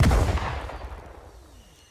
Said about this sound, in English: Okay, Flicker, fire when ready